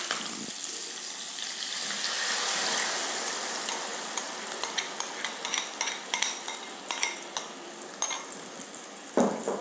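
Yogurt mixture poured into a hilsa fish gravy with mustard oil and green chillies, a hissing sizzle that settles, then a series of close spoon scrapes and taps against the pan.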